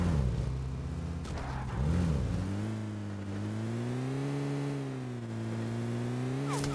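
A car in PUBG Mobile driving steadily, its engine humming and revving near and loud, rising and settling in pitch with no talk over it.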